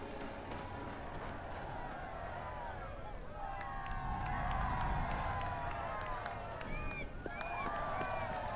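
A crowd gathers and cheers in Fable III, with a busy wash of voices, shouts and running footsteps that swells in the middle, joined by faint horse hooves and scattered whistles.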